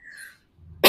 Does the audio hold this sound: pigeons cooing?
no